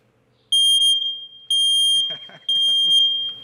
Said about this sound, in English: a smoke alarm will beep really loud